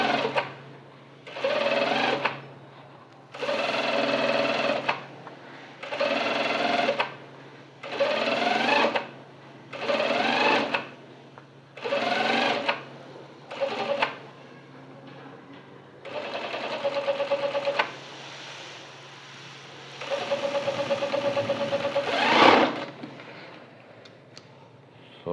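A sewing machine stitches a shirt collar in repeated short runs of rapid whirring, broken by brief pauses, with a couple of longer runs toward the end, close and clear.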